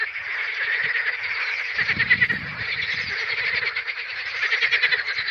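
A dense chorus of frogs croaks continuously in the distance at sunset in a village, a steady pulsing trill with no pauses.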